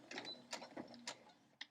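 Sewing machine making a short back stitch on a quilt block: a few quiet, clicking mechanical bursts spaced apart, close and soft.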